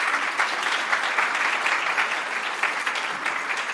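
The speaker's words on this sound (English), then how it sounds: "Can we give her a warm hand of applause as she comes up?" At a conference keynote session, an audience applauds warmly as a speaker comes up. The sustained, even clapping from many people fills the room without a break, and no voices are heard.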